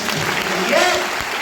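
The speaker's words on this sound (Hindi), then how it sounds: "एक बार ताली बजा दो भाई।" Business training audience clapping briefly, a short burst of crowd applause mixed with a speaker's voice over a hall's reverberant background.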